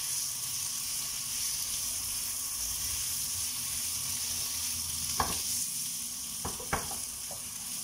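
Potatoes sauté in olive oil, butter and garlic with a steady, close sizzle. A few sharp clicks of stirring sound near the end.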